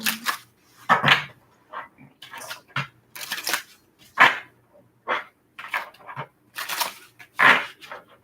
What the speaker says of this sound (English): This will be our last shuffle.